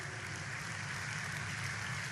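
A congregation applauds during a Portuguese-dubbed church sermon, a faint, even wash of many hands clapping far off, steady throughout with no voices over it.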